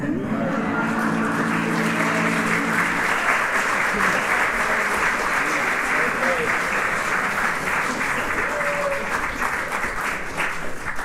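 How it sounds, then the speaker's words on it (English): Audience applause for a barbershop chorus just after a song ends, the last held sung chord fading into a long, steady wave of clapping from a room full of listeners. "Thanks for clapping for us."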